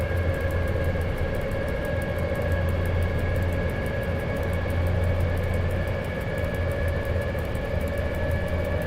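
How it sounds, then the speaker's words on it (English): A train in the SimRail rail simulator goes into emergency braking, producing a loud, steady low rumble with a sustained tonal hum. A rapid, regular ticking runs on top throughout, and no voices are heard. "It's gone emergency brakes."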